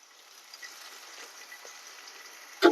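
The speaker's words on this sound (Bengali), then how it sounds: "পেঁয়াজ কুচি আর কাঁচামরিচ দুইটা একসাথে দিয়ে দিলাম।" Chopped onion and green chilies sizzle and crackle in hot oil in a pan, a steady soft frying hiss throughout, with a louder clatter right at the end.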